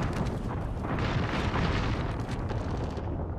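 Artillery strike explosions in the video game Apex Legends: a continuous, dense rumble of overlapping booms and blasts, loud and steady throughout with no voices.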